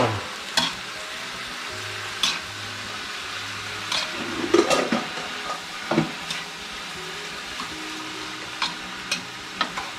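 Continuous sizzling of yellow noodles and vegetables stir-frying in a small pan, with intermittent scraping and clanking as a utensil stirs and tosses them, close by.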